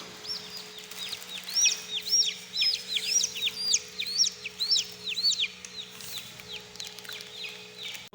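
Newly hatched chicks cheep in a rapid, continuous run of high, sharp peeps nearby, with a low steady hum underneath and no talk.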